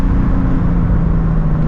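A Ford Mustang Shelby GT350 with its tires spinning, a loud close engine rumble holding steady for a brief moment.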